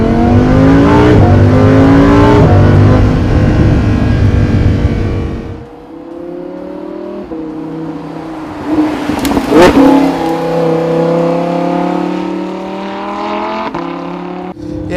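A 2016 Lamborghini Huracan LP 610-4 pulls away in first gear, its engine loud and close with a rising roar, then easing to a lower drone before a second strong surge.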